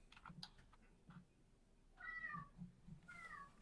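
Faint cat meows, two short calls a second apart, in a quiet room with soft background rustling.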